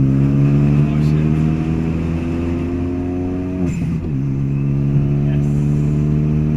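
A rear-wheel drive widebody Renault Megane idles and revs with a steady engine drone that dips and recovers, heard from inside or close by, loud and continuous under occasional voices.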